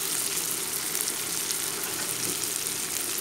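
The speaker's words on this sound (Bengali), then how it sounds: "এটাকে 1 মিনিটের মতন কষিয়ে নেবো।" Turmeric, chili and coriander powder sauté in a hot pan, a steady close sizzle and fry that holds evenly throughout with no talking.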